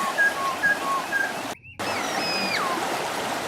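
Clear stream water flowing in a steady broadband rush, close and continuous, briefly cut out for a moment, with thin whistled bird calls rising above it.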